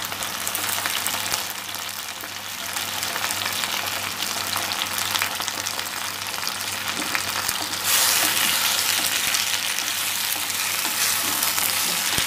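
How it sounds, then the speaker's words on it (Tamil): Yam pieces sauté in oil for a tangy yam kuzhambu, giving a constant dense sizzle and crackle throughout, growing slightly louder toward the end. "இந்த எண்ணெயிலேயே இப்போ இதை நல்லா பிரட்டிக்கலாம்."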